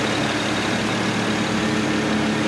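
A smooth-idling BMW M54 inline-six in an E92 335i with an MHD tune gives a steady, even low engine hum and broadband drone, heard close and continuous with no talking.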